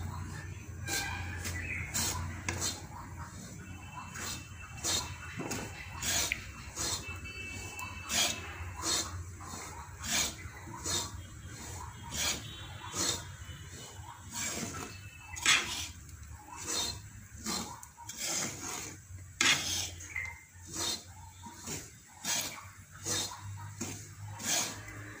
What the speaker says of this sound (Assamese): এয়া চাউলৰ গুড়াখিনি এনেকৈ ভাজি আছোঁ